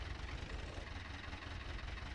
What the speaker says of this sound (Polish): Silnik jest identyczny, bo słuchajcie jak to działa i u mnie i u niego.